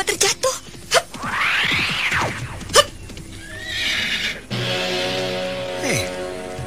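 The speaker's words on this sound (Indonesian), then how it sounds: "Orang itu berkuda dalam keadaan luka parah. Tubuhnya limbung di atas kuda." A horse whinnies loudly in a rising and falling neigh, followed by further snorts and hoof sounds against a backdrop of outdoor ambience, in a dramatized scene of a wounded rider on horseback.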